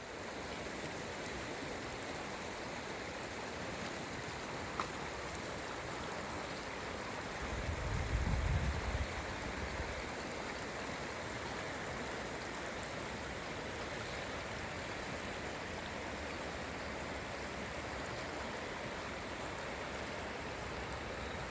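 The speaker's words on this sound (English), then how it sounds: "I'm going to sit back and enjoy the river" A river flows in Truckee with a steady, broad rushing wash that never lets up, with a brief low rumble partway through and no voices.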